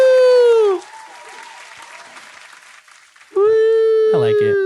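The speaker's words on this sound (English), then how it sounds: "a round of applause, sir" A podcast soundboard fires a canned applause effect: a burst of clapping and cheering that swells and fades over a few seconds, flanked by loud nearby voices talking before and after.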